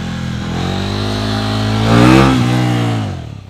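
A motorcycle engine held at steady revs, then throttle blipped as the bike lands from a wheelie, rising in pitch and loudness before easing off; close and loud with no talking.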